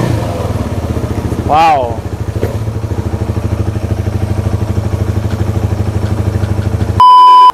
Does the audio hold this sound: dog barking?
no